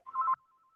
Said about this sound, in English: Oh, that was a phone call coming in.